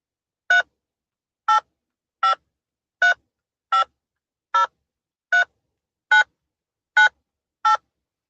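Ten evenly spaced telephone keypad DTMF tones, each a short crisp beep about a second apart, enter a phone number alone against silence during an automated phone call.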